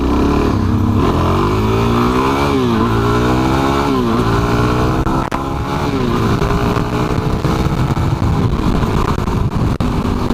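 A Suzuki DRZ400SM supermoto's single-cylinder engine buzzes loud and close while riding in the city, its pitch climbing and dropping through repeated revs and shifts, with wind rumble underneath.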